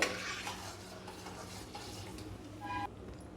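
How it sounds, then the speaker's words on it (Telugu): Raisins frying in ghee in a pan, with soft stirring scrapes and a faint background sizzle, quiet and close, a few light clinks near the end. "ఇప్పుడు అదే నెత్తిలో కిస్మిస్ వేసి ఫ్రై చేసుకోవాలి"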